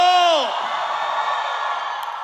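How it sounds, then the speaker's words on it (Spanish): A church audience down the front shouts and whoops together on cue, a loud collective yell that swells at once and then settles into a sustained crowd roar. "Give me a shout, everyone down the front."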